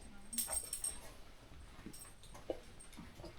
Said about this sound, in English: What dog is that? He's a wire fox terrier.